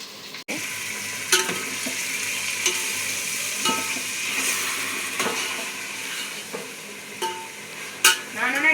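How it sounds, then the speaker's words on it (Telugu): Marinated chicken fries in a pan with a constant crackling sizzle, while a utensil stirs and scrapes against the metal, giving occasional sharp clinks and knocks close up. "ఇప్పుడు మ్యారినేట్ చేసుకున్న చికెన్ నేను కొంచెమే చేసుకుంటున్నా,"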